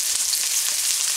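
Dry chilies, ginger and onion sauté in a pan with a steady, close, bright sizzle and no voices over it.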